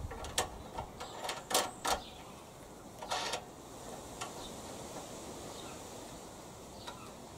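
Nuts and washers being fitted and tightened onto the handle bolts of a Hyundai HYM430SPER self-propelled electric-start roller lawnmower, a few close metallic clicks and ratcheting taps at first, then sparse faint ticks over quiet room noise.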